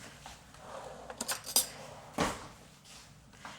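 Spoon stirring pesto sauce of spinach and garlic in a bowl, giving a few light clinks and scrapes of utensil against dish, brief and moderately close with quiet gaps between.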